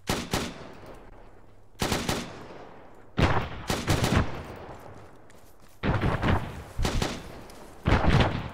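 Gunfire exchange in the military video game Arma 3, coming in separate loud bursts of automatic fire with echoing tails, broken by quieter gaps, with no talking heard.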